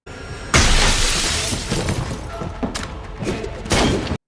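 Window glass shatters with a loud crash in a Daredevil fight scene, followed by tinkling debris, thuds and another sharp impact near the end.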